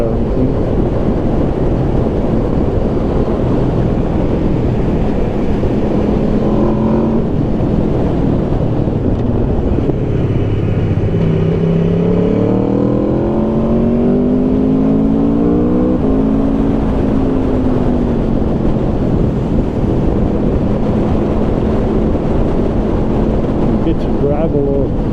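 A 2022 Aprilia RSV4 Factory motorcycle rides along a bumpy road, its engine note rising and falling through gear changes beneath constant heavy wind roar.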